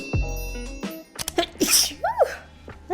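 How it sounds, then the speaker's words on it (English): A single loud, close sneeze bursts out right at the start, followed by a few quieter rustles and small vocal noises. "the second I start recording, I sneeze"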